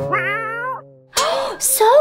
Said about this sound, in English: So pretty cat.